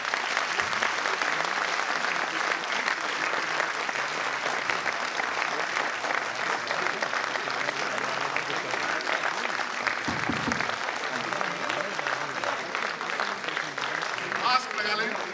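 An audience at a talk applauds steadily for about fifteen seconds, a dense, even wash of clapping from many hands in a hall, moderately loud and sustained without a break.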